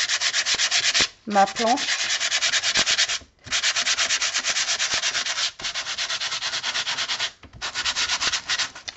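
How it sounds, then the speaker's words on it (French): The edges of an old wooden cutting board are sanded by hand without a block, in long rhythmic rasping strokes broken by short pauses. The sanding is close and loud, and a voice speaks briefly. "je vais poncer un peu les bords"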